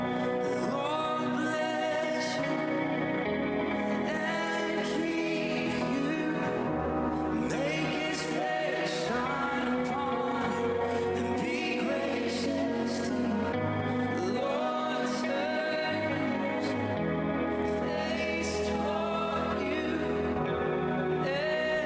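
A worship lead guitar part for "The Blessing" plays with a dotted-eighth delay at a fairly high mix, layered reverb and chorus, producing dense, echoing repeated notes over a full band that carries on steadily for over twenty seconds.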